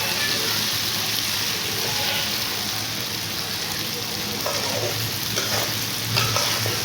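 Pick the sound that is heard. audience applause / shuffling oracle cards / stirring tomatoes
stirring tomatoes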